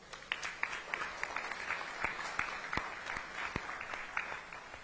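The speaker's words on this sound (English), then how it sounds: "Give yourselves all a round of applause" A modest round of applause from an audience at a live community event on fighting for Hawai'i's future, soft and somewhat sparse, with individual claps standing out.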